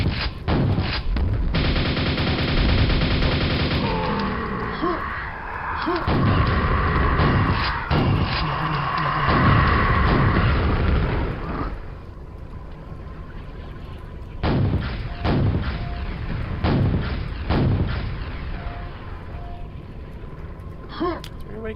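Rocket explosions and heavy weapon fire in the video game Quake, loud repeated booms and bursts dense at first, then sparser blasts later, with a voice talking over parts.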